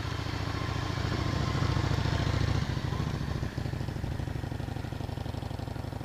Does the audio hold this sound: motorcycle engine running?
yes